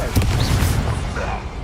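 Confringo explosive fire spell cast in the Hogwarts Legacy video game, a short dense booming rumble with low thuds, heard under a voice.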